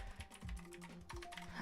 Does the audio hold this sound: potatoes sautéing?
no